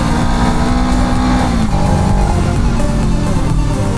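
A BMW GS motorcycle accelerating while riding, its engine note loud and close, climbing through the revs with steady droning harmonics and no talk over it.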